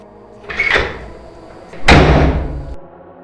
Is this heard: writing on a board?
no